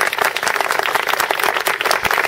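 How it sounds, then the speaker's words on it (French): Audience applause at a theatre performance, dense continuous clapping from many hands, loud and close, filling the whole moment without a break. "facile un grand applaudissement pour Brucinelle"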